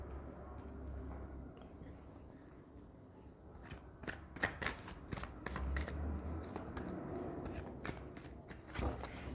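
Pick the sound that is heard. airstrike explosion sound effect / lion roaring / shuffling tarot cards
shuffling tarot cards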